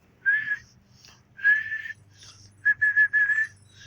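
A person whistles several bright, tuned bursts outdoors to call a dog, in three groups with pauses between, fairly close and loud over a low steady hum, with no talking.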